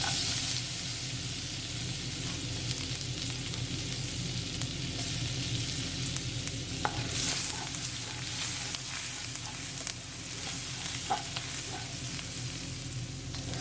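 Finely chopped garlic and ginger fry in melted butter in a pan, a steady dense sizzle with crackling pops running continuously and evenly for the whole stretch, with no voices over it.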